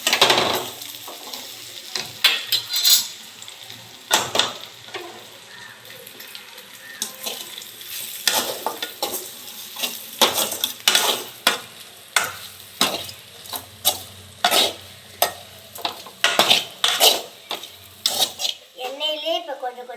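Raw banana pieces sauté in oil with chili powder in a pan, a low sizzle broken by repeated scraping, stirring strokes and clatters at an uneven rhythm, close and fairly loud, with no talk.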